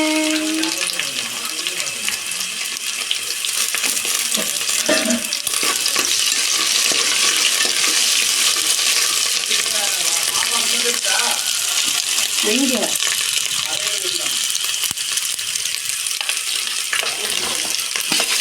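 Dried chillies and curry leaves fry in hot oil for a spicy chicken dish, a loud, continuous close sizzle with occasional stirring and a faint voice underneath.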